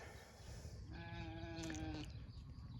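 Sheep bleat at feeding time on an off-grid homestead, one drawn-out wavering call of about a second rising over soft outdoor background noise.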